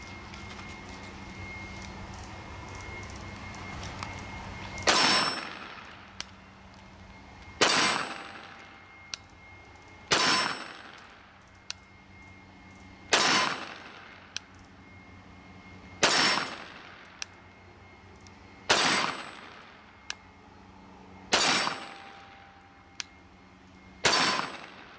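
A Walther PPQ .45 ACP pistol with an SSGuideRod fires slow, deliberate single shots. There are about eight loud, sharp reports spaced roughly two and a half seconds apart, each followed by a short ringing decay.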